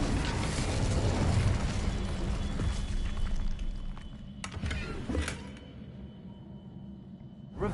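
A fiery Incendio spell blast from the Hogwarts Legacy video game, with a loud, dense rumbling burst that fills the first few seconds, then fades into quieter crackles and a couple of sharp hits.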